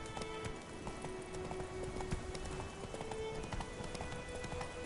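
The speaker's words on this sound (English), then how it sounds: "The horse riding in this game" Horse galloping in the Witcher 3 video game, rapid rhythmic clip-clop hoofbeats over a continuous ambient bed, moderately loud, no speech.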